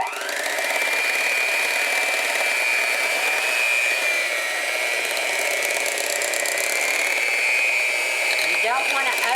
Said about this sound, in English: now I'm going to mix all of this up